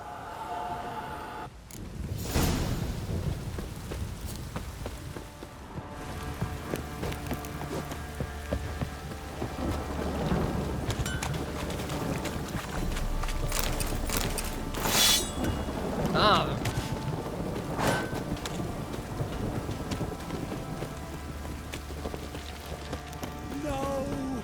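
Steady rain pattering in a dark fantasy video game, a continuous hiss with scattered drops and occasional footsteps or hoof clops, while voices speak over it.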